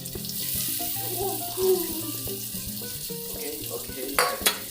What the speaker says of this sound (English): Now it's time to drop these potatoes on the pan.